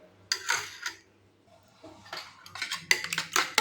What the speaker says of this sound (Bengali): কিছুক্ষণ সময় ভালো করে ডিমটাকে ফেটিয়ে নেব